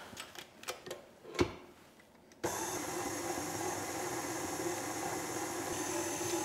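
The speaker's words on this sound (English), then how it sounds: "I'm just going to use my stand mixer to blend that till it resembles fine breadcrumbs" A few sharp clicks and knocks, then a stand mixer motor starts and runs as a steady, continuous whirring drone, blending butter and lemon zest into gluten-free flour for lemon poppyseed muffins.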